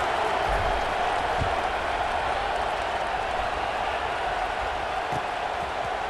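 Stadium crowd noise from an EA Sports College Football game, a steady, fairly quiet wash of distant roar and murmur with no distinct cheers standing out.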